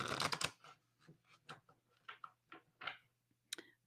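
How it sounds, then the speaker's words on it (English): Tarot cards being shuffled by hand, a quick burst of riffling followed by a series of soft, separate card taps and slides, close and quiet, with a faint steady hum beneath. "maybe I will shuffle so that a card will stick up."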